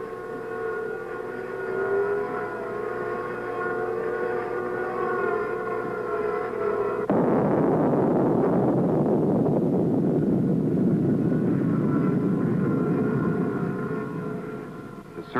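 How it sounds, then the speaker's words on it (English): A steady droning hum carries through 1961 Project Gnome underground nuclear test recordings as helicopters fly overhead. Tonal buzzing holds for the first half, then gives way to a broader, louder rumble that stays even to the end, with no voices. "The buzzing sounds over the Earth noises are from helicopters flying overhead."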